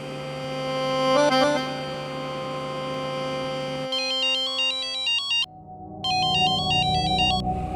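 A phone ringtone plays, a melodic electronic tune of repeating tones, preceded by a steady hum and a brief chime, fairly loud and close.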